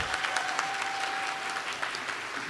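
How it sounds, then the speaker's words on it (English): Audience applause for the reigning Miss World at a pageant event, a brief steady burst of many hands clapping with a faint sustained tone running beneath it. "Could we have a round of applause for Carolina Biolaska?"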